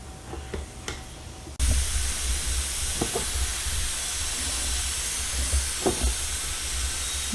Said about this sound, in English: I'm gonna let all that steam come out.